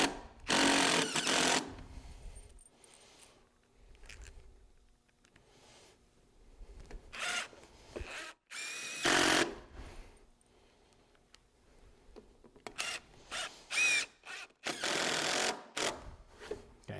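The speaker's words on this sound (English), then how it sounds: "you put the screws through the post cap" Screws being power-driven through a metal pergola post cap, heard as several loud bursts of drill whir with quiet pauses between the drives.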